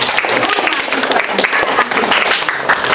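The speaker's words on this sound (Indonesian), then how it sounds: "Oke, kita berikan tepuk tangan." Classroom students break into brisk applause, a short burst of clapping that stays loud throughout, with some talk mixed underneath.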